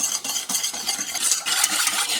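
A whisk beating a coconut milk dessert mixture with vanilla and salt in a bowl, quick rhythmic scraping and clinking strokes, close and steady with no voices.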